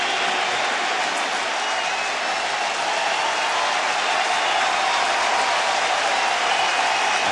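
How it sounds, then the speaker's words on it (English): A big baseball crowd at a stadium rising to its feet and applauding, a dense, sustained roar of clapping and cheering with no break, loud and close. "And this big crowd rises to its feet as one."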